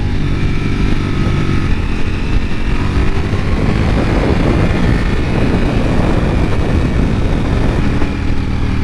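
A Ducati Panigale V4 SP out on the road, its V4 engine a loud, close, continuous growl that rises steadily in pitch as the bike accelerates, with no speech over it.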